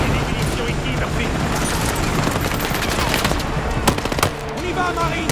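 Battlefield 6 video game gunfire: dense, loud automatic bursts that overlap into a continuous barrage, with a few sharper close shots near the end.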